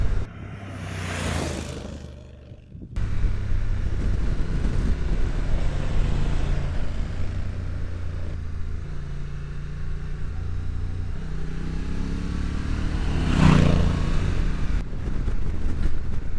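A 2025 Honda NT1100 touring motorcycle is ridden with the screen at its lowest position, giving a steady engine drone under rushing wind noise. Brief gusts of wind buffeting come near the start and again later.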